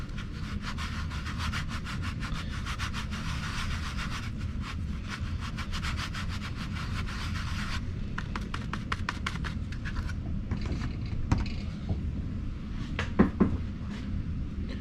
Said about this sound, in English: I always like to screen my first bit of sand that goes in. I screen it through the sifter.